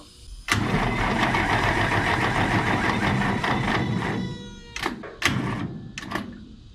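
An old engine in a 1954 International truck, unused for 30 years, cranks over steadily for several seconds, then cuts out, followed by a few short bursts of cranking that never catch on a weak battery.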